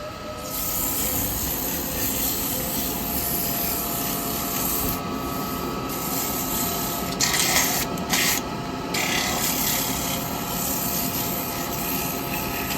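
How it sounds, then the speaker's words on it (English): A wooden mead cup being sanded while it spins on a woodturning lathe gives a steady, loud rasping hiss over a constant motor whine, with a few brief louder bursts near the end. "I'm going to do a bit of sanding in that."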